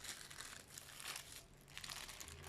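Plastic bag crinkling as soap dough for a soap flower is peeled out of it, a steady close rustle with louder crackling bursts throughout, no voices.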